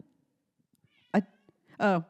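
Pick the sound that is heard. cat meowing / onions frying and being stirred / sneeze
cat meowing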